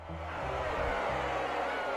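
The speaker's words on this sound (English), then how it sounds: "Murmur spread over the crowd as some of the future nobles refuse to follow the Archduke's order" In The Life and Suffering of Sir Brante, a crowd of future nobles murmurs as a steady, low hubbub of many voices, with a faint musical drone underneath.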